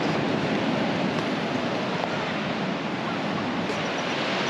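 Surf washing steadily onto a soft sandy beach on the coast near Esperance and Bremer Bay, a dense continuous roar with no breaks, loud and close, with some wind buffeting the microphone.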